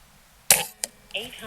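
A Benjamin Gunnar .25 airgun fires one sharp, loud shot, followed by a brief secondary snap, in a quiet setting, with a voice starting just after.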